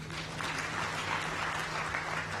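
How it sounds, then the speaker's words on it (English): Members at an annual general meeting of a pension fund clapping, a steady even wash of applause from a large audience in a hall, with a faint low hum behind it. "Clap for yourselves."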